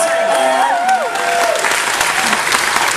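A studio audience at a comedians' panel show applauds loudly and steadily for a comedian, a dense close wash of clapping that lasts the whole stretch, while a voice speaks briefly over the start.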